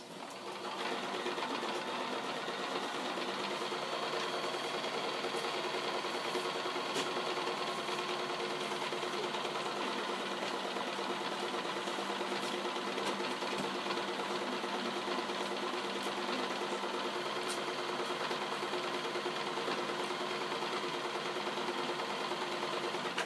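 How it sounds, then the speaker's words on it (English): A sewing machine runs continuously while stitching a t-shirt drawstring bag, a loud, even, fast mechanical whir that lasts throughout with no talk. "you're going to backstitch and stop"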